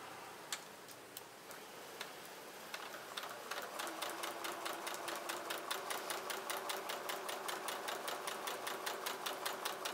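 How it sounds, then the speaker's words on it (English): A sewing machine stitches a quilt seam on directional quarter-square triangle blocks: sparse ticks at first, then a steady, rapid mechanical stitching rhythm that runs close and clear with no talking. "she's just sewing right down to the center line on the right hand side there."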